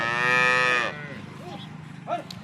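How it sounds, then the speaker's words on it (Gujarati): A Kathiyawadi cow gives one long, loud, close moo, followed by softer grunts and a short second call from the cattle nearby, with no voices. "બંને આ ગાયો છે ને બીજી પણ ગાયો છે"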